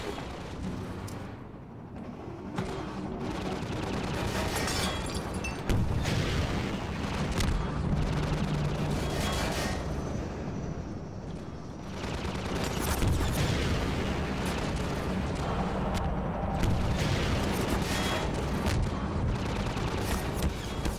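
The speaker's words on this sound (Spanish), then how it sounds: "tiro dos cohetes y ya estoy vacío" Rocket launcher explosions in Half-Life 2, a dense run of loud booming blasts and rumbling impacts that follow one another with brief lulls, heavy and close.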